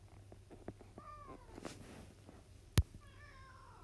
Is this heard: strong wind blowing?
no